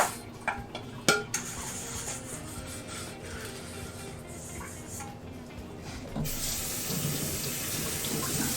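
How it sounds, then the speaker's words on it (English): Hot water runs from a faucet into a bowl in a kitchen sink, a steady close splashing rush after a few clinks of dishware at the start, growing louder toward the end, with no voices. "rinse off this bowl and pour the hot water into there"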